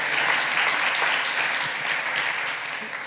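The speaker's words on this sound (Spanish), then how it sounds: "Un aplauso." An audience at a live podcast taping in Spain applauds for a speaker, a dense, loud wash of clapping that holds steady for about three seconds and eases off slightly at the end, with no voices over it.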